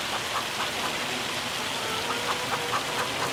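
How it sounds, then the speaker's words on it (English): Heavy rain mixed with hail pours steadily in the Farming Simulator 25 video game, a dense, constant hiss with scattered faint pattering impacts and no voices. "The hail and rain's going to carry on probably throughout much of the rest of the afternoon."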